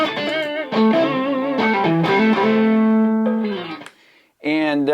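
An electric guitar through an Aleks K Production Hot Ice Sweet Distortion pedal plays a short run of overdriven notes and chords with thick sustain, then a brief gap before a final ringing distorted chord.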